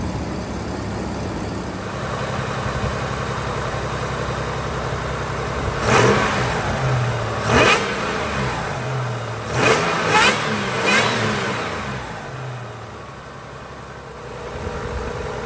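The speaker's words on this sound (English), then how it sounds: "We'll let the idle die down and then we'll give it some revs." A Toyota 4Runner 5VZ-FE V6 engine with Doug Thorley aftermarket headers idling, then revved several times in short bursts, each rising and falling back to a rumbling idle; loud and close.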